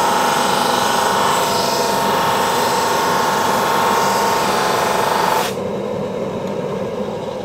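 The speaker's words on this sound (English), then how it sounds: "you've got to allow the sander to actually sand" A power sander works a wooden router base plate, giving a loud, continuous gritty rasp close by that drops abruptly to a lower, duller hum near the end; no speech.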